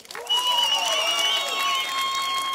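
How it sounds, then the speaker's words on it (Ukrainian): Outdoor karaoke crowd on a town square applauds a contestant named Viktoria, sustained clapping and cheering with a backing melody playing over it. "Хто хоче, щоб у фіналі співала Вікторія, ваші оплески Вікторії."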